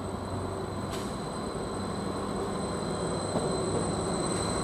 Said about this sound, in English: Now we've got Greater Anglia, class